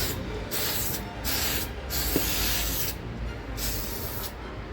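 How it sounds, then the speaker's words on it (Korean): UV-blocking finishing spray hisses from an aerosol can onto a One Piece figure on a ventilated balcony, in several loud, steady bursts with brief gaps between them. "세상의 모든 스프레이는 냄새가 이롭지 않게 환기가 잘 되는 베란다에서 뿌려줍시다"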